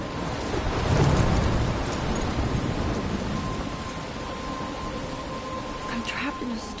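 A stormy scene in Life is Strange: dense, steady rain pours close by, a deep thunder rumble swells in the first seconds, and faint tonal effects drift above the downpour.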